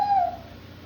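A child imitates the wheezing breath of a person with asthma: a short, thin whistling tone that slides downward and fades within a second, fairly close, alone.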